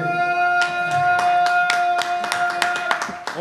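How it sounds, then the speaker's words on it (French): Applause at a press conference for a sport and health festival in Dakar: a short run of scattered hand claps that builds into a denser patter, close, over a steady tonal hum. "On peut les applaudir."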